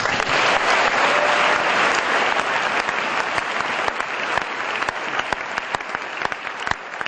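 A church congregation applauds in acclaim of Jesus, a dense, loud wash of many hands clapping continuously, thinning slightly toward the end.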